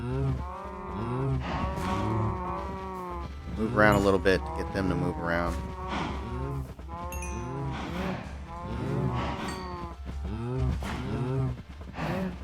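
Cows moo repeatedly in Minecraft in long, drawn-out calls with a person talking over them throughout, over a steady low background hum.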